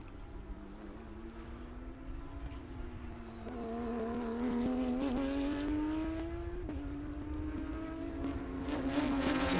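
Historic TransAm and GT race cars roar past at Sebring, engines whining and rising in pitch as they accelerate, heard from a moderate distance in a steady, building drone.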